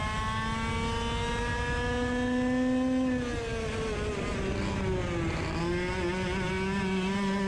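A racing kart engine screams along a track, its tone steady then dropping and climbing again as it brakes into a corner and accelerates out, loud and close.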